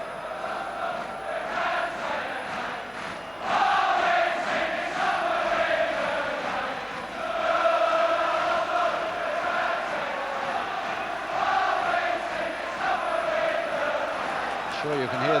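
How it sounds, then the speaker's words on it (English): Arsenal supporters chanting in the crowd at an FA Cup semi-final replay against Liverpool, a far, swelling stadium chant under a commentator's steady talk. "you can hear the Arsenal voices in the crowd at the moment"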